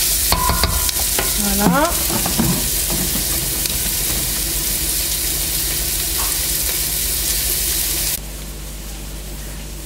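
Onions frying in a pan as the base for poulet basquaise, a steady close sizzle with stirring clatter near the start, continuing evenly before dropping to a quieter hiss near the end; one brief spoken word.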